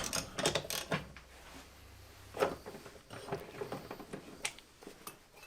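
Quiet metallic clicks, ratcheting and small clanks as engine mount fasteners are removed from a MINI Cooper R53, irregular bursts of tool work with pauses between, fairly close but low in level.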